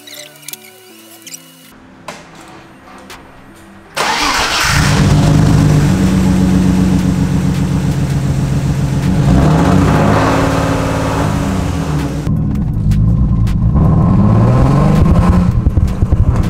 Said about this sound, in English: I didn't feel like it was revving up as smooth as it was before.